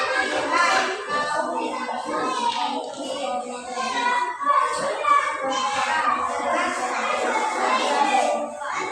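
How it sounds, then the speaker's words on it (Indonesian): Classroom of primary-school children applauding a student group, a dense, steady patter of many small hands with some children's voices and shuffling mixed in throughout. "Ya, tepuk tangan juga buat kelompok 2."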